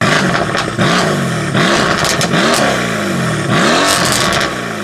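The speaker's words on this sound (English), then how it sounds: "No other twin turbocharged or bi-turbocharged V8 out there on the market sounds like an AMG does." A loud twin-turbo V8 engine of a Mercedes C63 AMG revs repeatedly, rising and falling in pitch with a burbly exhaust note, close and powerful throughout.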